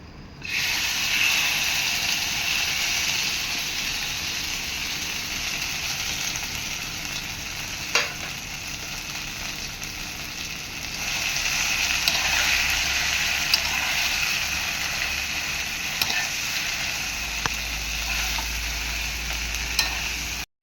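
Soybean paste sizzling in a pan on low heat, a steady close frying hiss that runs throughout, with occasional small pops and a brief stirring clatter.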